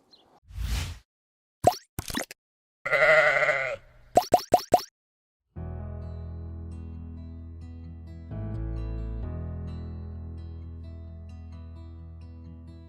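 A few short bleats from breeding ewes ring out among brief pops and gaps, then a steady low droning hum fills the rest of the clip.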